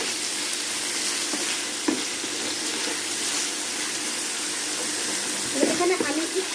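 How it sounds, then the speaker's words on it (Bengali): Chicken frying in a pan for a home-cooked chicken baked pasta, a steady sizzle running throughout with a few louder spits and stirring sounds near the end. "একদম ভাজা ভাজা করে চিকেনটাকে রান্না করে নেব"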